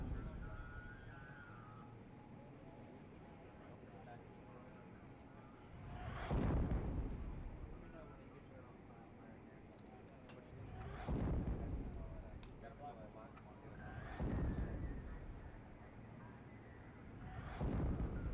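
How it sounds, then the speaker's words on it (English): Artillery bombardment in the WW2 strategy game Steel Division 2: four distant, heavy shell impacts land a few seconds apart, each a deep rumbling boom that swells and fades over a quiet background hum. "We're just going to keep these guys pinned down by bombarding them. Look at all the artillery I've got here."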